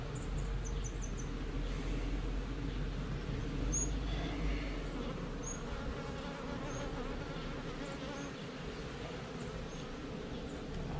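Honey bees buzz steadily around an opened beehive during an April hive inspection, a continuous close droning swarm that carries through the whole stretch with no talk.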